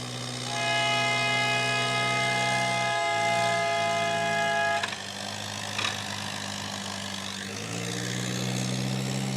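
A loud, sustained electric warning horn at a barnyard tractor pull at a county fair blares with steady tones over a rumbling engine, cuts off briefly, then sounds again.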